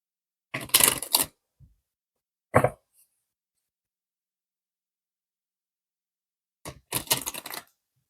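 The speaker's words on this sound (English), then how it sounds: "I hope the shuffling is not too loud." A deck of tarot cards is shuffled close up in three quick bursts of crisp, rapid riffling clicks separated by silence, with no voices.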